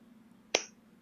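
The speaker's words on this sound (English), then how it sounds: "Your clap sounds like shit through your microphone" A single hand clap picked up through a gamer's microphone, one sharp, thin crack in a quiet room, sounding more like a snap than a full clap.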